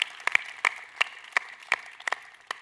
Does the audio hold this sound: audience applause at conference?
yes